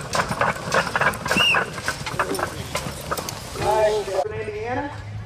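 A team of Percheron draft horses pulls a 5,800-pound load at a county 4-H fair horse pull. Hooves and harness give scattered thuds and clatter under a loud announcer's voice, with a brief shout near the end.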